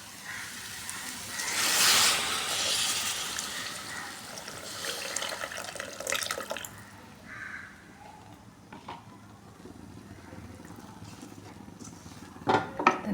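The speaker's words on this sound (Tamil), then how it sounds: "இப்போ புளி தண்ணி சேர்க்குறேன்." Tamarind water poured into a cooking pot of spiced kara kuzhambu with sundakkai, chilli, turmeric and coriander powder and salt, a steady liquid splash and hiss for the first several seconds, then quieter stirring and clinks.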